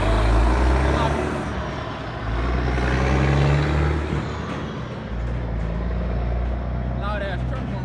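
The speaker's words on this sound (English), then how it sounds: "loud ass truck going by" A loud truck drives past nearby, its heavy low engine rumble swelling and holding for several seconds while someone speaks over it.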